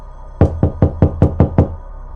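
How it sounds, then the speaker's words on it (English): Seven quick, hard knocks on a door come in an even, urgent rhythm, loud and close, with nothing else over them. "a frantic knocking hit the other side of the door"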